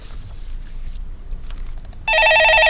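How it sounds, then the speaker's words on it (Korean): A telephone bursts into loud, rapid electronic ringing partway through on a Korean stock-market radio call-in show, following a quiet stretch of faint studio noise. "예, 전화 받아보겠습니다."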